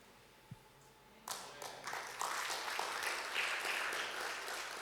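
Church congregation clapping during a Sunday sermon, scattered claps building after a quiet start into steady, moderately loud applause in a reverberant hall.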